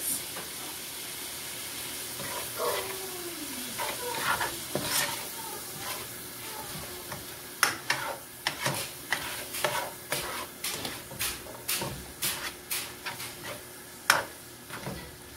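Vegetables and vegan sausage for jambalaya stirred in a hot pan, a soft sizzle running under repeated scraping strokes of the spoon that grow more regular and distinct toward the end.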